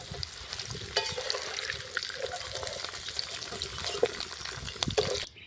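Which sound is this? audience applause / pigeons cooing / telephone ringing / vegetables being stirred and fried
vegetables being stirred and fried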